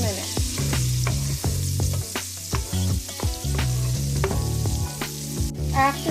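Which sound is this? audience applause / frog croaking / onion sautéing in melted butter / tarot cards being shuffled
onion sautéing in melted butter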